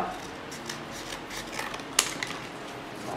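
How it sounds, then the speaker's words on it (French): A pair of scissors cuts a roll into three parts, making faint, soft snips with one sharper, crisp cut standing out partway through. Quiet room noise fills the background. "je prends mon rouleau et une paire de ciseaux que je coupe"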